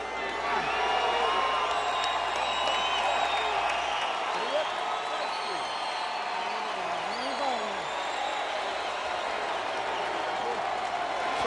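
A lukewarm, subdued cheer and steady crowd murmur in a boxing arena at the Roman Karmazin vs Cory Spinks fight, with no sharp peak; a continuous wash of distant voices that holds for about eleven seconds.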